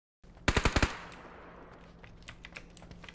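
A fast burst of automatic gunfire in the battle-royale game PUBG, about six loud close shots in quick rhythm, then a fading tail with scattered faint clicks.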